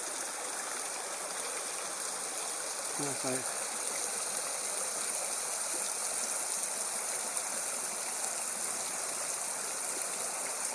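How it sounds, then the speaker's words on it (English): A stream and the first of a series of waterfalls at Slaley/Healey Mill send up a steady, moderate rush of water, broad and unbroken throughout, with a brief spoken remark early on. "The first of the series of waterfalls apparently"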